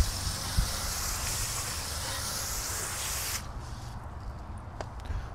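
Wheel cleaner sprayed onto the wheels of an Audi SUV, a steady broad hiss lasting a few seconds before cutting out, followed by faint handling sounds.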